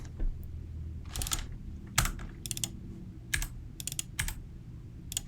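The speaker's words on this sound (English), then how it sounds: "I'll just type in" Typing on a computer keyboard during a Django coding session, with scattered bursts of clicky keystrokes separated by short pauses, close and moderately quiet with no talking.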